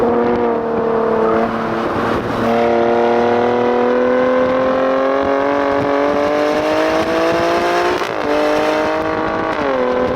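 A 2018 Alfa Romeo Stelvio Quadrifoglio SUV with a 2.9-liter twin-turbo V6 accelerates hard, its loud engine note climbing steadily through the gears with brief dips at each upshift, heard up close from inside.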